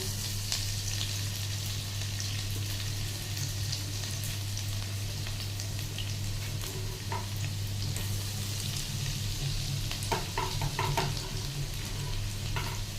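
Chopped garlic sizzles in hot oil for restaurant-style chilli chicken, a steady, even frying hiss with scattered crackles and light stirring toward the end, with no voices.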